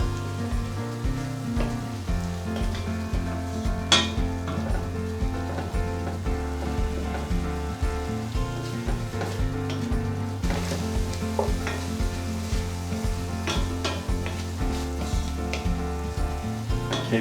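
Bacon fries in a pot for smoky bacon soup, giving off a continuous, close, crackling sizzle with occasional sharper pops and no speech.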